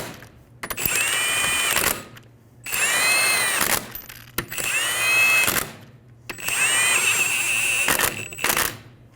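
A power tool runs wheel lug nuts onto the rear wheel of a 2007–2011 Toyota Camry in four bursts of about one to two seconds each, a close, loud whirring buzz with quiet pauses between them.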